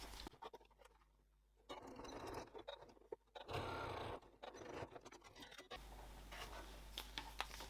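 A sewing machine stitches a curved seam on right-sides-together fabric, bursts of close mechanical whirring and needle clatter broken by short pauses, no talk.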